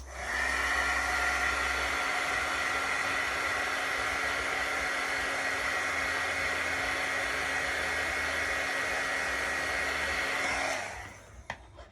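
Watercolor paint on a card being dried makes a steady, close whooshing roar like a hair dryer that runs for about eleven seconds and then cuts off.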